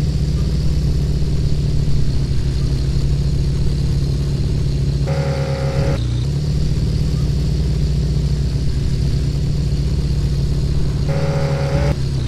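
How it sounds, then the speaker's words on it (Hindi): A car in the game Car For Sale runs with a steady, loud mid-pitched engine drone that holds a constant note throughout, with two brief tonal shifts like gear changes or revs. "अभी हम लोग ना मतलब इस गाड़ी को लेके निकलते हैं डायरेक्ट"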